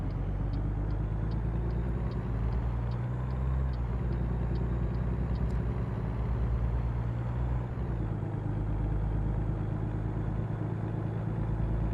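A heavy truck engine in American Truck Simulator, running a 6-speed gearbox, drones steadily and up close with a deep layered rumble, briefly dipping in pitch partway through as a gear shift changes the engine note.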